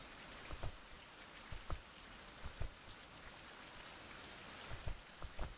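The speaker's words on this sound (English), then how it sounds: "It's nighttime and it's raining." Nighttime rain in the survival video game Fountain Of Youth falls as a steady soft hiss, with scattered louder drops and patters at irregular intervals, faint and without speech.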